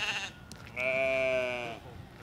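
Sheep bleating on a farm at feeding time, one long sustained bleat standing out clearly over faint background noise.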